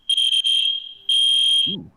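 A fire alarm blares in loud, piercing electronic tones, one long burst, a brief gap, then another long burst, with a faint low voice at the very end.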